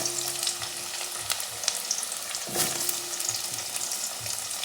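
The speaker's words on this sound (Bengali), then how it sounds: "এবার মাছের আলুগুলো ভেজে নেব।" Potatoes for a fish dish fry in hot oil, giving a steady close crackling sizzle with occasional stirring clatter and no talking.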